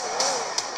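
A racing game's engine revs through the built-in speakers of a Nintendo Switch OLED handheld, a steady, somewhat thin whine with a few brief hissing bursts over the short stretch.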